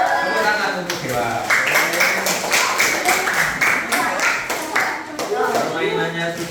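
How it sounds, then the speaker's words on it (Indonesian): Classroom applause: a group of students clapping together in a steady, moderately loud burst that lasts several seconds, with a voice heard faintly over the clapping. "Tepuk tangan untuk Dewa"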